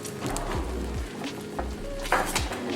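Eggs poured into a cast iron pan give a soft sizzle under clattering pan and utensil knocks, a few low thuds and scrapes punctuating the quiet frying.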